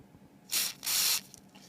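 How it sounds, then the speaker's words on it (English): Aerosol lubricant sprayed onto a bushing inside a Marantz 2250B receiver during repair: two short, close hissing bursts, the second longer, with quiet pauses around them. "And I'll just spray just a little bitty bit."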